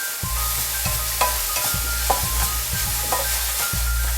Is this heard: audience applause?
no